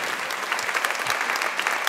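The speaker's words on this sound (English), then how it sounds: "Give another round of applause." Lively audience applause from a theatre crowd, a dense patter of many hands clapping at an even, fairly loud level throughout.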